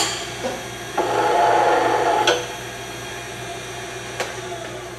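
A skew chisel cuts wood on a spinning lathe, giving a brief rising hiss of shaving for about a second over a steady motor hum, with a few sharp taps scattered around it.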